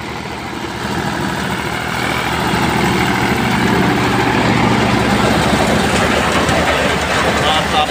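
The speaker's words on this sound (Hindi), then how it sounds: "एयर कूल्ड इंजन है ये, 485 तीन पंखे वाला," An air-cooled Eicher 485 tractor engine with three fans idles at steady revs with no load, a loud, continuous low diesel rumble heard up close for the whole stretch.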